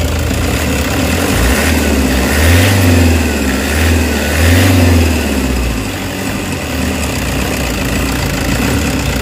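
A Toyota HiAce engine with low power and a throttle delay idles close by, then revs twice in slow, lazy swells before settling back to a steady, slightly knocking idle.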